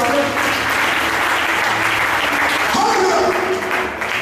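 A church congregation applauding together during a Sunday exhortation, a dense, loud wash of clapping that holds steady for a few seconds, with a voice briefly rising over it.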